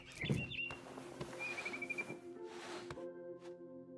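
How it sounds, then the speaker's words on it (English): Quiet barn swallow chirps and a short twittering trill sound over a soft sustained tonal background, with a few light clicks, in the video game What Remains of Edith Finch. "I heard chirping outside my window. It was a barn swallow going back to her nest."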